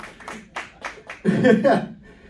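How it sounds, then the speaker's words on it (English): A short burst of audience applause with some laughter breaks out after scattered claps at a comedy show in the Royal Court Theatre, then dies away quickly. "Round of applause, brilliant, thank you."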